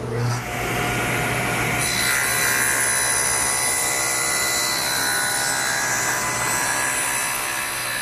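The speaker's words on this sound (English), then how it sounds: "I trim the tenon stock to width on the table saw so it just fits inside the mortise." A table saw runs loud and steady, trimming a length of wooden tenon stock to width. The whine of the blade in the wood fills the whole stretch, with no talking.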